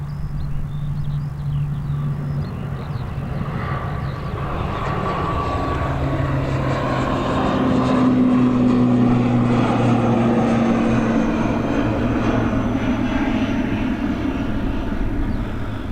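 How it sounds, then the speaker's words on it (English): An ATR turboprop airliner at Dublin Airport drones steadily throughout, a broad engine roar with a low propeller hum that swells slightly toward the middle, with no talk. "We'll quickly pick up this ATR."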